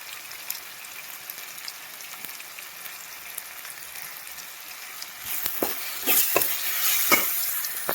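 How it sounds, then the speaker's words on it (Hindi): Spices such as turmeric, dried fenugreek leaves and salt sizzle in a hot pan in a village kitchen, a steady crackle that grows louder near the end as a spoon scrapes and stirs them. "मसाले जला ना।"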